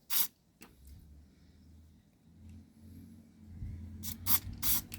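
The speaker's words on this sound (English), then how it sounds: "these 3 holes on this part here need to inject with the carb cleaner" Carb cleaner sprayed into three holes on a Honda UMK425 brushcutter's GX25 carburetor: short sharp aerosol hisses, one at the start and a cluster of three near the end, close and fairly faint between quiet handling noises.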